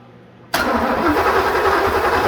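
A blown third-generation Camaro engine catches after a brief quiet moment and fires into a loud, rough, close idle that keeps running.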